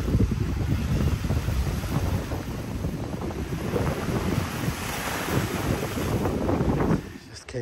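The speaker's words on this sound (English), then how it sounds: "You can see those waves hitting the barrier there. Very heavy." Heavy storm waves crashing against a harbor barrier in Orange County, California, with strong wind buffeting the microphone; a continuous loud roar and rumble of surf and gusts, no speech.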